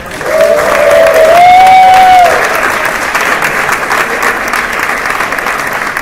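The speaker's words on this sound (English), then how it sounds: "one more round of applause for our director" A theatre audience after a stage performance of God of Carnage breaks into loud, sustained applause for the director, a dense close wash of clapping with a whistle rising over it at the start.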